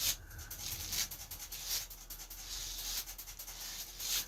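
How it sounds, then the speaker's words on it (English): A wire grooming card brushes against denim jeans while a rabbit is groomed in a barn, giving soft repeated scratchy strokes at close range with no talking. "Now what you're hearing is the card on my jeans."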